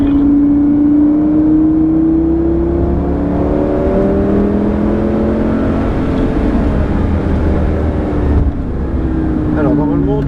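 A Lamborghini Gallardo accelerates onto the Lohéac track, its engine note climbing steadily through the revs, dipping once at a gear change, then rising again, loud and close from inside the car.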